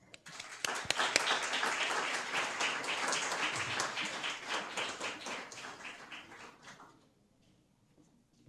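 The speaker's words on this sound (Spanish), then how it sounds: "recibámoslo con un aplauso" An audience welcomes a speaker at a university lecture with dense, steady applause that holds for about six seconds, then fades out into near silence.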